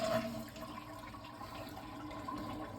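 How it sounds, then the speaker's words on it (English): A household toilet being flushed: a steady rush of water swirling and draining at close range, loudest at the start and holding at an even level throughout, with no talk. "So I need to flush this, make sure all the water's out"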